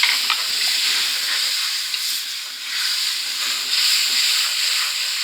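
Tomato paste sizzles loudly in a pan with ginger and garlic for an aloo chicken gravy, a steady bright frying hiss with brief stirring scrapes and swells throughout, no talking.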